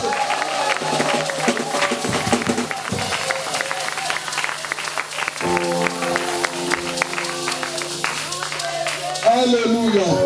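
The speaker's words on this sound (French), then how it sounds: "On acclame très fort pour notre Dieu" A church congregation claps and cheers loudly in praise of God, a dense continuous roar of applause and voices running throughout while music with steady sustained tones plays underneath.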